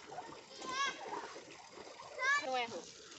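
On a rural farm, water from a turned-on tap runs and splashes steadily, heard under a voice and other talk.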